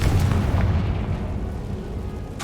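A Confringo blasting spell in the Hogwarts Legacy video game detonates with a heavy, rumbling explosion that rolls on as a sustained low boom for a couple of seconds, with no talk over it.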